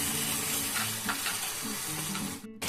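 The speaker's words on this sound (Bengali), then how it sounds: "এখন দিয়ে দেবো একটুখানি উষ্ণ গরম জল, বেশি দেবেন না, প্রয়োজন মতো দেবেন" Warm water poured into a pan of simmering paneer curry makes a continuous hissing, bubbling sizzle with faint stirring, cutting out abruptly near the end, and no one speaks.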